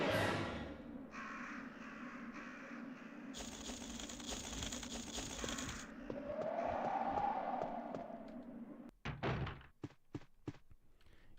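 Crows cawing in the Resident Evil game, heard as harsh repeated caws over a constant background ambience, followed by a series of sharp thuds and knocks near the end.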